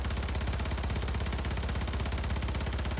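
Sustained automatic fire from a BP50 SMG fitted with a Komodo heavy muzzle in a shooting video game, a loud, dense, rapid stream of shots running unbroken for the whole stretch.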